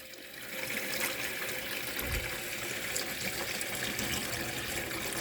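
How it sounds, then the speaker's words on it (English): Steady rushing of water running from the tap into the sink of a 1997 Elddis Vogue caravan fitted with a new pump, a continuous close hiss throughout. "Turn the tap on."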